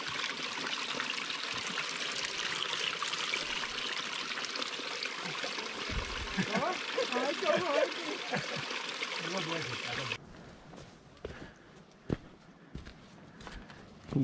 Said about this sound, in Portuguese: E olha essa cachoeira.